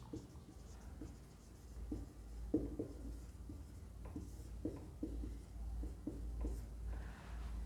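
Chalk or marker scratching out words on a classroom board, a steady series of short strokes and taps at close range with no voices.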